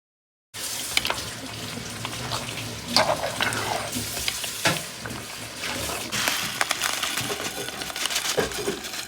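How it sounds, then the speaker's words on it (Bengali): Sweet fennel seeds fry in a pan with a dense, continuous sizzle and crackle, punctuated by light scraping and clinking from stirring, close by and without speech. "এখানে হচ্ছে মিষ্টি মৌরি ভেজে নিচ্ছি"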